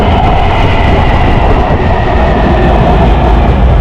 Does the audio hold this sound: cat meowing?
no